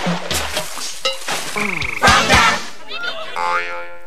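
A playful voice imitates a frog, letting out a quick series of croaks and ribbit-like calls in a Kermit the Frog style, with a sing-along melody and music playing around them.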